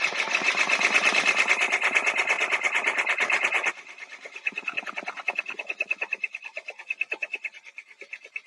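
An embroidery sewing machine stitches out an applique design with a fast, loud, rhythmic needle chatter, then drops to a lighter, slower, more uneven stitching pace midway, close up and without talk.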